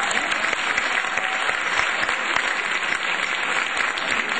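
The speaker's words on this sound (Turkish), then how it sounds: "Bir kocaman alkışla kendinize." Sustained audience applause at a Koç University Turkish classical music club concert, dense steady clapping throughout, loud and close, with no voices above it.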